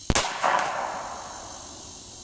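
A Seneca Dragon Claw .50 caliber PCP airgun fires once on low power, a sharp close crack followed by a ringing metallic clang that fades, with a second hard click at the very end.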